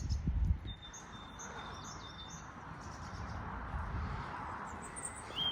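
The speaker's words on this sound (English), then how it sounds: "And you hear the birds singing." Faint bird chirps and thin whistled calls drift over a steady outdoor rumble, with a low thump near the start.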